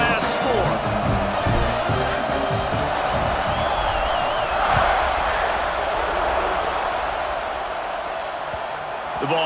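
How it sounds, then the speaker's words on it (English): Dense, steady roar of a large football stadium crowd during an Oregon vs Georgia game, buzzing loudly and continuously after a score, with scattered whoops and cheers rising within the broad wash of noise. "this crowd is buzzing after that last score"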